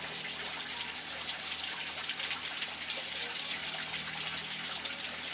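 A shower runs in a five-star hotel in Thailand, a steady, close hiss of spraying water that continues unbroken with no talk.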